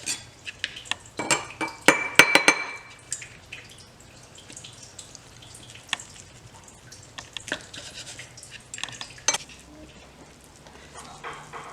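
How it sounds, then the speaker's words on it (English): A wet knife slices through a homemade sushi roll, giving soft clicks and taps against the board, with a cluster of sharper clinks early and scattered light knocks after. "So I went ahead and wet my knife and I'm going to start cutting it"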